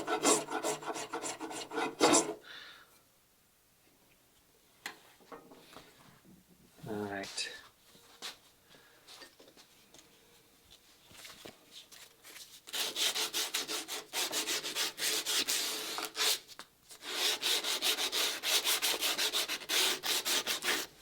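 Hand tool such as a rasp or file softening the edges of a wooden breasthook for a Catalina Wherry boat build, with bursts of close, rough rasping strokes separated by quiet pauses and brief clunks.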